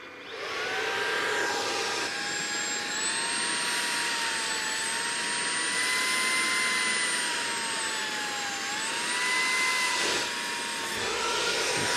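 A Tineco Pure One A50S Plus cordless vacuum cleaner vacuuming a cushion, a steady loud high-pitched motor whine with airflow rush whose pitch shifts slightly as the nozzle moves, close and continuous throughout.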